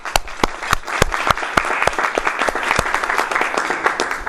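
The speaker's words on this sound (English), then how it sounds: "Please join for the applause." Audience applause for staff at a politics lecture: loud, distinct close claps stand out over a softer bed of many hands, with the clapping building and staying steady throughout.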